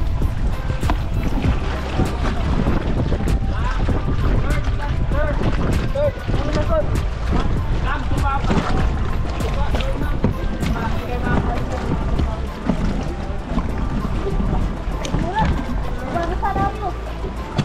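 A boat heads through choppy water at Big Lagoon, El Nido, Palawan, with engine drone, splashing and wind buffeting the microphone throughout; people talk over the noise.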